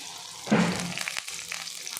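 Onions fry in hot oil for a Tulu-style long beans and hog plum dish, giving a short sizzling burst that settles into a soft crackle, with faint stirring clicks.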